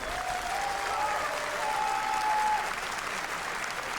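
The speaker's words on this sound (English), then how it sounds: "someone is going crazy in the crowd again" A large crowd at a live games showcase event applauds and cheers in a steady, continuous roar that holds at full loudness throughout, with a faint tone running underneath.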